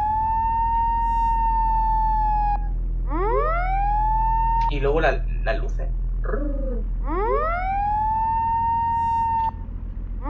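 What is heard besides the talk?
police car siren in Assetto Corsa video game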